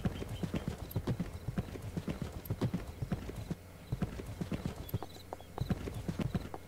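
Horse hooves clip-clop in the virtual world of the video game Second Life, a steady, fairly quiet walking rhythm of repeated hoof strikes with no voices over it.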